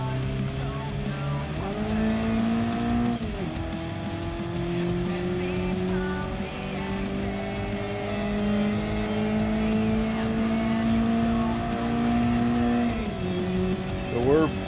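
Racing car in a driving video game, its engine droning steadily and shifting pitch as it slides, with a short burst of tire squeal near the end and a voice talking over it.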